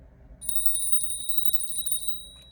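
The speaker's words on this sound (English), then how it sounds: "Every time a bell rings, an angel gets their wings." A small bell rings in a rapid, steady trill for about a second and a half, bright and thin, then stops, over a faint low background hum.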